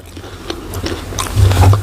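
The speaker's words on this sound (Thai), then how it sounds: "อร่อยตับหมูทอด" Someone bites into crispy fried pork liver coated in a light crunchy batter, giving a couple of close, sharp crunches followed by chewing.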